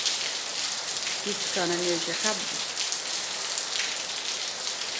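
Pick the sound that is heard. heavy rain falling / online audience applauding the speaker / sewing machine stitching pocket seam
heavy rain falling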